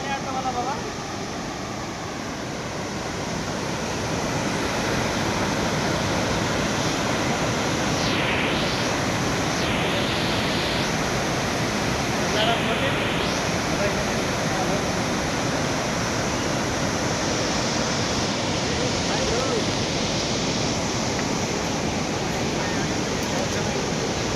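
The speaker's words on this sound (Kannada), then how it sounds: "ಸೊ ಭರಚುಕ್ಕಿ ಜಲಪಾತದ ವ್ಯೂ ನಾವು ಈ ರೀತಿಯಲ್ಲಿ ನೋಡಬಹುದು" Bharachukki waterfall in Chamarajanagar district roars with rushing water, a loud, dense, unbroken wash of sound that holds steady throughout.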